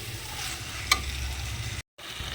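Tomatoes with salt cooking in a pan until they soften, giving a soft continuous sizzle with a brief clink of the spoon before the sound cuts out for a moment.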